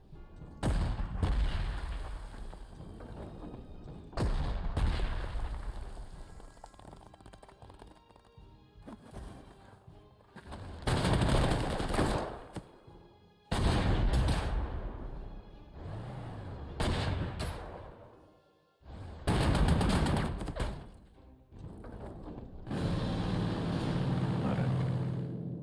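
A tank assaults an anti-tank gun in the Panzer Corps 2 strategy war game: a run of loud, heavy booming blasts and explosive bursts separated by short gaps, with no talking.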